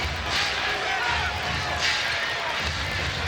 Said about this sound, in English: Howard hearing some boos once again, but also a lot of cheers.